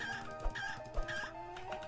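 Chickens in the game Planet Centauri cluck in short repeated calls over a steady musical background, with a couple of soft thumps.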